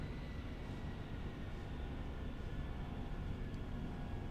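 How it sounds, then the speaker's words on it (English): A train locomotive in the Grandia video game rumbles on steadily as a low, dense, continuous drone, with faint metallic tonal lines above it and no breaks. "A train's locomotive."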